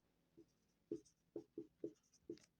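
Writing on a board during a class 9 maths lesson on the area of an equilateral triangle: six short, scratchy strokes in quick, uneven succession, close and clear with no voice over them.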